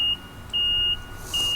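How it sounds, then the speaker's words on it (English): A Ryobi 100 Ah electric riding lawn mower in reverse gives off a repeating high electronic beep, three clear pulses at an even rhythm, close and loud over a quiet background. "You can put it in reverse. It is going to beep,"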